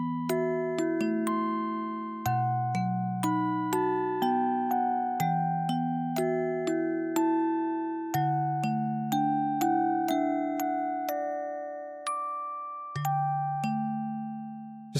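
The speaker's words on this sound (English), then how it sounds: "Just kind of that classic toy piano chime sound." A toy piano music box chime from Resident Evil Code: Veronica X plays a slow, tinkling melody of bright struck notes, each ringing and decaying, with clear repeated phrasing and no voices.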